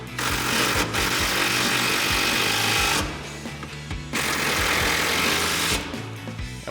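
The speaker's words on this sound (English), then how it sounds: "Now we'll tighten down our 13mm bolts with our 13mm socket on our impact." Impact wrench driving 13mm bolts with a 13mm socket while mounting running-board brackets on a RAM 2500, two loud sustained rattling bursts separated by a brief pause.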